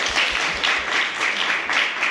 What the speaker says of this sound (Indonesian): Aplaus buat beliau.